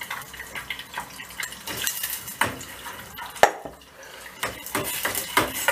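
Tomato paste is stirred and sautéed in melted butter in a pan, heard as irregular clinks and scrapes of a utensil against metal with faint sizzling underneath, close up and with no voices.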